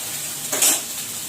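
Okra frying in a pan: a steady low sizzle with one brief clatter of a utensil against the pan midway, no talk.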